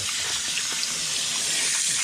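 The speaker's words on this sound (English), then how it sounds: "And the real trick is getting that cold water on it." Cold water gushing steadily over freshly boiled red rock crab, a continuous close, loud splashing pour with no break.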